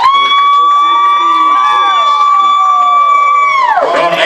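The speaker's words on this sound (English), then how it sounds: "You hear the faithful still cheering for him" Home crowd at a high school football game, Unicoi County at Claiborne, keeps up a loud, steady roar of cheering throughout, with sustained tonal shouts or horn-like notes riding on it before it tails off at the end.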